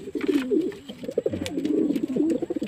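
Pigeons cooing close by in a coop, a steady run of low rolling coos lasting throughout with faint background noise.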